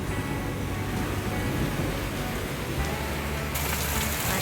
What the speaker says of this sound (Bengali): এখানে কতটা জল জমে গেছে দেখছেন, তাহলে কত বৃষ্টি হচ্ছে।